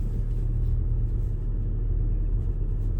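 Audi S3 cruising on the highway, a steady low engine drone and road rumble heard from inside the cabin, continuous and even with no voices.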